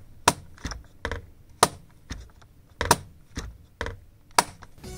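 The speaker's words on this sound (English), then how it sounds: "The shift and spacebar keys squeak sometimes and it really hurts my ears." V7 keyboard keys, with squeaky shift and spacebar and stiff backspace, clacking loudly when pressed: about a dozen sharp, close keystrokes at an uneven rhythm, each click trailing a brief squeak, with no talking.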